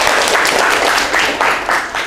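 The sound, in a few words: applause in a classroom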